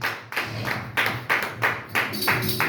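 A church congregation claps loudly in praise, a run of about seven strong, evenly spaced bursts of applause close by, with no talk over it.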